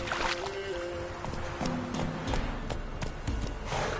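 Roach the horse galloping in The Witcher 3, a steady rhythmic clip-clop of hooves close by under a continuous game soundscape.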